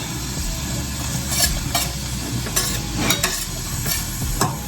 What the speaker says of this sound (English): We're gonna put our onions in the pan so that we can go ahead and start cooking our sauce